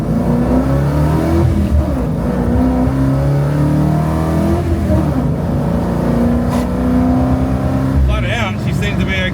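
A car engine running rich at idle and flooding itself gives a rough, uneven rumble that keeps going throughout, with voices talking over it.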